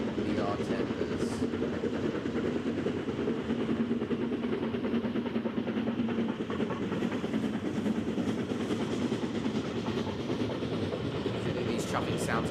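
Steam locomotive with a C-type tender in a train video game, a continuous rhythmic chuffing and rail rumble running steadily throughout at moderate level, with no speech.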